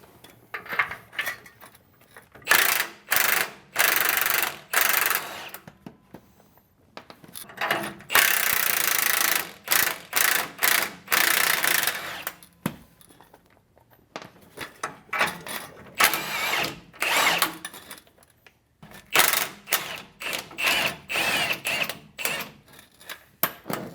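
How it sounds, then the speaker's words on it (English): An impact wrench zips nuts off the leaf spring U-bolts during a rear leaf spring replacement, loud close bursts of rattling hammering that start and stop repeatedly with brief pauses between. "let's go ahead and get these nuts off these U-bolts"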